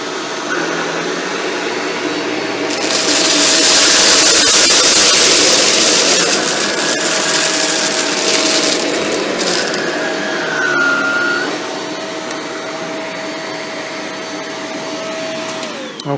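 A Shark Rotator Lift Away NV682 vacuum cleaner runs with a loud, steady motor whine while cleaning along baseboards, its roar swelling as the nozzle pushes against the edge, then settling, with faint knocks and scraping.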